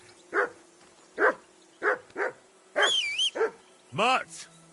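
Repeated dog barks and yelps from a dog in the medieval game Kingdom Come: Deliverance II, roughly seven sharp barks in an uneven rhythm over about five seconds, close and clear above a low background hum, ending in a higher whining yelp.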